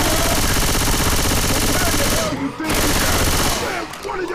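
Rapid, loud gunfire in Left 4 Dead 2, a continuous automatic burst that drops out briefly twice before resuming, with faint voices underneath.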